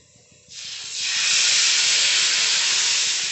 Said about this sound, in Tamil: நான் ஒரு தோசை ஊற்றி காட்டுறேன் பாருங்கள்.